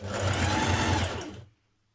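Sewing machine stitching down the seam allowance on a Simplicity 9122 dress, a steady close whirring run that lasts just over a second and then stops abruptly into silence.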